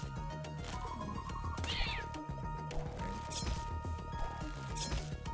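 A cat meows within a video game, set amid layered game music and clanging effects, fairly quiet in the mix with several short cries scattered through.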